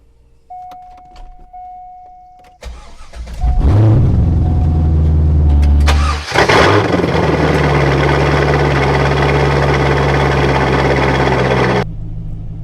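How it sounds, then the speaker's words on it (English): A Chevrolet C5 Corvette cranks over and fires up, its engine surging loudly before dipping and settling into a steady, deep idle; faint clicks and a chime come first, and the idle cuts off near the end. "we're gonna start up the Corvette"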